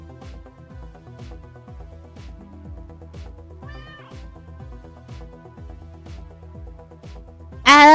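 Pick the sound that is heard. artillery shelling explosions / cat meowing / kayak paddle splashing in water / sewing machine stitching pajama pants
cat meowing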